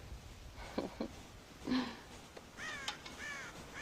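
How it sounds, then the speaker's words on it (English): Several crow caws in the Red Dead Redemption video game, a few harsh calls spaced across a few seconds at moderate distance over faint background ambience. "God damn crows!"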